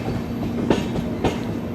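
12978 Marusagar Express train running on rails with a steady rumble and a few clacking wheel impacts, nearby and fairly loud, no voices.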